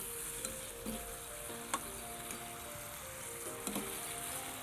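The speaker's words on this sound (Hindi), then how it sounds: "इसको अच्छी तरह मिक्स करेंगे" Chicken noodles with soy sauce sizzle softly in a pan while being stirred, a faint continuous frying hiss broken by a few sharp utensil clicks and scrapes.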